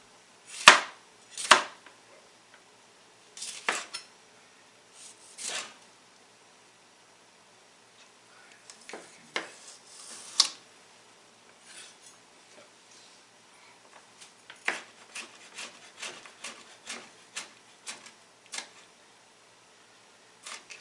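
A knife chops food on a board during meal prep, quiet irregular chops in short clusters separated by pauses, fairly close.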